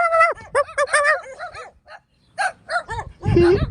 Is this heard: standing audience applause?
no